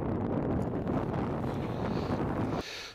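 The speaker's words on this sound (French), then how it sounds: "Il y a un vent très froid" Strong, very cold wind on the ridge of Mont Bellachat buffets the microphone with a loud, rumbling roar for a few seconds, then drops off abruptly, leaving a fainter hiss.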